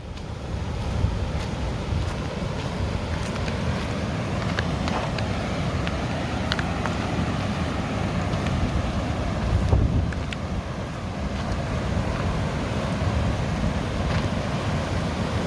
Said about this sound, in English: And I can hear it from my rig, which is something I enjoy. I enjoy hearing running water.